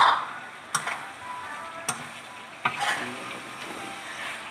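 Chicken pieces seasoned for ayam kicap rempah kari frying in a pan, a steady sizzle with a few sharp clinks of a utensil stirring against the pan, close and alone.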